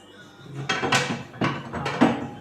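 Jerk chicken pizza with pineapple set into a pot in place of a flat pan, making several close clanks and scrapes of metal cookware in quick succession, fairly quiet.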